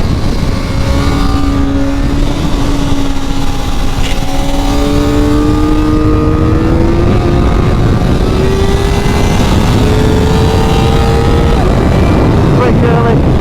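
Kawasaki ZX-4RR motorcycle accelerating hard on a race track, a loud engine note climbing steadily in pitch through the gear under heavy wind noise, with a rider's voice talking over it.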